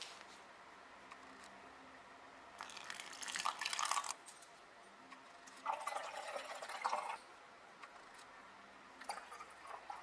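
Damask rose floral water poured into a container for a homemade facial toner, two separate trickling pours of a few seconds each, close and fairly soft, with quiet gaps between.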